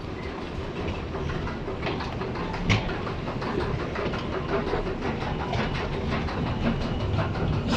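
A Malaysian LRT metro train runs at a station with a steady, loud rolling rumble and rattle that holds throughout without a break, with no talk.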